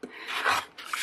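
Quilt block fabric being trimmed, heard as a close, short rasping cut that swells and fades, followed by a second brief scrape.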